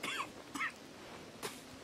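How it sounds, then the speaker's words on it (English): A few short, separate coughs from a character in Red Dead Redemption 2, each a brief rough burst with quiet pauses between, no speech around them. "Did not mean to cough on you."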